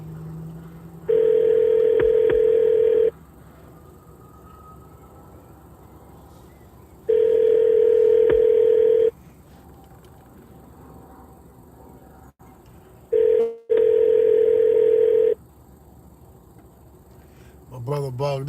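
An outgoing phone call rings unanswered: three long, steady ringback tones of about two seconds each, separated by several seconds of quiet hiss, clear and close, with a brief burst of noise near the end.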